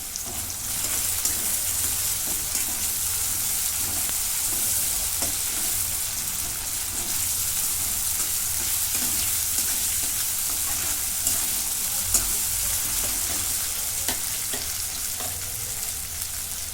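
Ginger-garlic paste and masala sizzle and fry steadily in a pan, a continuous close hiss of hot oil with faint stirring scrapes throughout and no talking.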